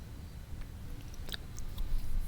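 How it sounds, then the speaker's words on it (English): Someone crunching on crunchy food up close, a few quiet crisp bites against faint low background noise. "Yes, I am eating food here."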